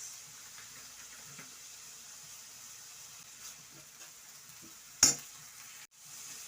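Fish sauce poured into a hot frying pan for a Filipino dish, a quiet steady sizzle with light stirring, then a sharp clatter of the pan or utensil near the end.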